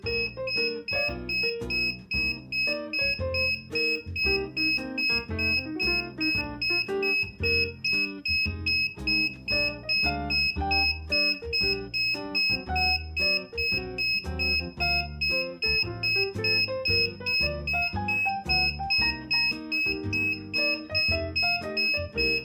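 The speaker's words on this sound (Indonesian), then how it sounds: "ketika sensor peer mendeteksi pergerakan penyusup di dalam rumah, maka buzzer akan berbunyi sebagai alarm selama 30 detik" A buzzer alarm from a home security system goes off when a PIR motion sensor detects movement, beeping in a fast, continuous, loud pattern without a break over a repeating electronic backing.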